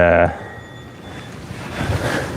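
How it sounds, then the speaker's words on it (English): Wind blowing with a rushing, breathy roar that swells toward the end, following a brief tonal sound at the start; no voices. "it's so windy out there right now"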